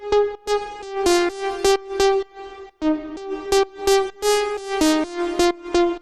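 A bright FL Studio synth melody played in short chordal stabs with a rich stack of harmonics, its filter opening at the melody's peaks for movement; steady rhythmic phrasing, loud and close, with no voices.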